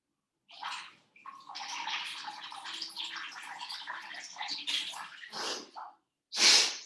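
Cold water poured and stirred into warm water for a jal neti nasal rinse, a steady splashing gurgle lasting several seconds, close and fairly quiet, ending in a short louder splash with no talking.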